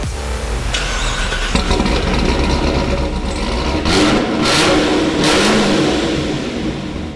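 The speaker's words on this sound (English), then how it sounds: "Now that the car is back together, we can fire it up and do our initial checks." A 2019 Corvette Z06 engine with a cam kit and new exhaust cranks and catches, then settles into a loud idle with a couple of sharp revs close by.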